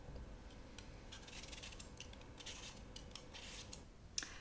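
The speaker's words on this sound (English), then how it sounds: "First I need to peel the potatoes and boil them." Potatoes being peeled in a kitchen, a run of soft, quick scraping strokes close up and quiet, with a sharper click near the end and no talk.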